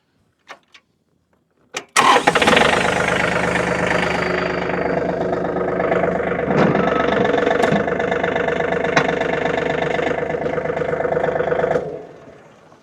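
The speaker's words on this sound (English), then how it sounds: "so I'm going to actually start it up, use the bucket or front end loader to lift it up off the ground" A tractor engine cranks over after a few faint clicks, catches and settles into a loud, steady idle with a mechanical rattle for about ten seconds before shutting off.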